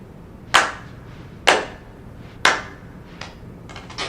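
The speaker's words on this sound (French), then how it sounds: "Jack, tu pourrais te donner la peine d'applaudir un peu si tu comptes faire partie du public." One person clapping slowly and deliberately: three sharp, loud claps about a second apart, then a few fainter, quicker claps trailing off in a quiet room.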